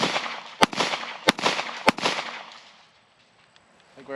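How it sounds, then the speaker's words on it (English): A handgun fires three sharp, loud cracks about a second apart, each followed by a brief echoing tail, and the sound then fades into near silence. "with handguns, you can just pull, and it'll just fire"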